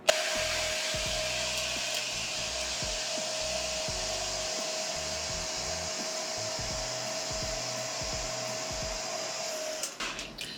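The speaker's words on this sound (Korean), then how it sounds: "처음에는 그냥 따뜻한 바람으로 거의 다 말려주시고 마지막에 찬바람으로 말려주시게 되면 되게 차분하고 머리가 부드럽게 말려져요" Hair dryer drying long, heavily damaged straight hair, a steady close whooshing airflow with a constant motor whine running throughout, briefly disturbed near the end.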